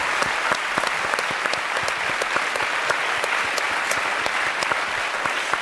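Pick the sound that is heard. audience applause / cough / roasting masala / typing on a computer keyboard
audience applause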